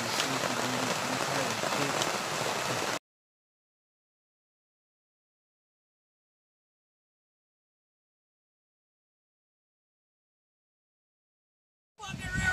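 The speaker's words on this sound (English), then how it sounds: "Since we got out of bed this morning, it's been pouring rain." Heavy rain pours steadily on a campsite during a canoe trip, filling the first few seconds before sudden silence and then briefly returning at the end.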